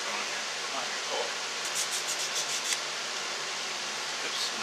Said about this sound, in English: I'm probably going to break all these corners with a little bit of hand sanding